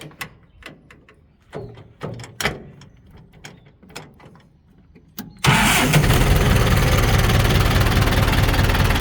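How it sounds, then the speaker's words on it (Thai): A series of clicks and clunks, then the diesel engine of a long-parked 6610 tractor cranks and catches at once, settling into a loud, steady rumbling idle. "ลองฟังเสียงเครื่องก่อนคันแรก"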